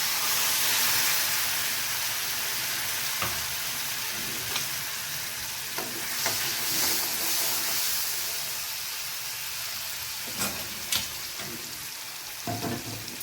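Steady, loud sizzling and crackling of water hitting hot oil with cumin and chili powder, with occasional sharper pops and spits, close up and continuous throughout.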